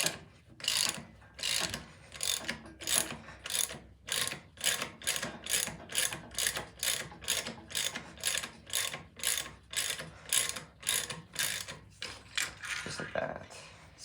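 A ratchet wrench cranks steadily on a tight, 20-year-old crank bolt of a stock LS1 engine in a Firebird, giving fast, evenly spaced clicking bursts throughout, close and loud with no talking.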